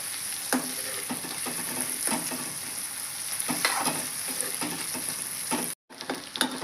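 Chopped cluster beans fry in oil over a low flame, a constant crackling sizzle broken by repeated spatula scrapes and taps against the pan, close up, with a brief dropout near the end.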